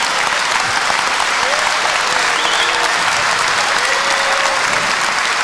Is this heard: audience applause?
yes